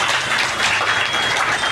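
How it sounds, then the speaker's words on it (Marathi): Dense, steady applause from an audience at a community award and felicitation ceremony in Diva, many hands clapping together without a break. "मी माझ्या सकट तुमच्यासाठी टाळ्या वाजवतो आणि तुम्ही स्वतःसाठी वाजवायच्या."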